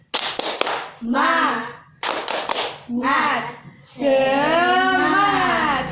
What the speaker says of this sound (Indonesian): Nah, tepuk semangat bisa nggak?